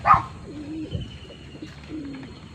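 Pigeons coo softly in low, drawn-out calls, two separate coos with a brief bird chirp at the start, fairly close by.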